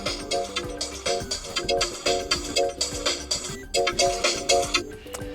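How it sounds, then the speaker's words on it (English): A loud pre-installed ringtone on a Motorola Moto G60s phone plays a repeating melodic pattern of bright, pulsing tones, with no voices. "select one of these pre-installed ringtones"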